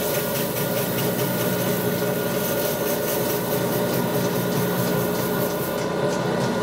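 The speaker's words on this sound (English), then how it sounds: "we're going to grind these two edges, and then they'll be ready to glue to that other plate." Glass edge grinder running up to speed, a loud continuous broadband whir and hum with steady tonal lines, constant in level throughout with no talk.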